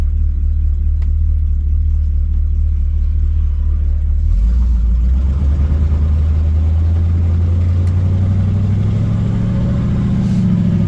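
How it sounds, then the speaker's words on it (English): A car with a failing transmission and a dragging drum, its engine droning low and steady while driving, then the pitch drops and climbs again as it shifts gears, loud and close from inside the cabin. "It's shifting. There's third."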